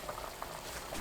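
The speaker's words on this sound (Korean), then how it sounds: "마늘 15개, 건대추 6개, 인삼 1뿌리 넣고 뚜껑 닫아 중불로 15분 끓입니다." Samgyetang with fifteen garlic cloves, six dried jujubes and one ginseng root bubbles in a covered pot over medium heat, a steady soft boiling hiss with faint bursting bubbles throughout.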